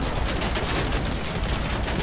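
Two shooters fire at once in a dense, continuous volley of loud, close gunshots that blur into one rolling burst for the full two seconds.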